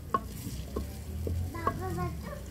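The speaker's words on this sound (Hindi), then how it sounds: "उसी ऑयल में अब मिर्चें शामिल करेंगे। मिर्चों को थोड़ा सा भून के" Chilies being fried in oil for halwa puri cholay, a soft sizzle with a few stirring clinks and scrapes, close but quiet, no one speaking.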